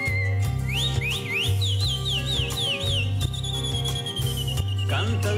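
Whistled imitation of a calandria (mockingbird) song, a rapid run of rising chirps then a long sustained whistle, played over a lively folk band with a pulsing bass line.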